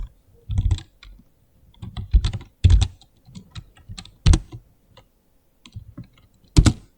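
A computer keyboard is typed on in short, irregular bursts of clicky keystrokes with pauses between, close and clear, ending with a sharp, louder keypress like the enter key.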